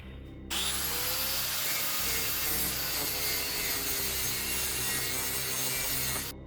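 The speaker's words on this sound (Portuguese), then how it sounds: "a próxima etapa seria a de lixar a peça bonitinha para alisar todo o conjunto" Sanding a rebuilt TIG-welded aluminium engine casing, a steady close abrasive rasp starting abruptly, continuing evenly for several seconds over a motor hum, then stopping.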